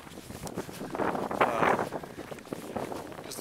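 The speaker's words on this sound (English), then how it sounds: "because the wind is behind me." Strong gusting wind in a 2011 blizzard, buffeting the microphone in waves that swell and fade while walking outdoors through snow.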